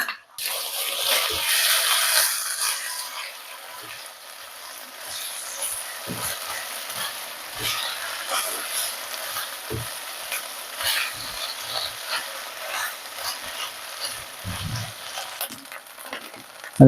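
Ginger garlic paste frying for mutton curry, with a steady oily sizzle throughout, loudest in the first few seconds and then settling to a constant hiss, with soft stirring scrapes scattered across it.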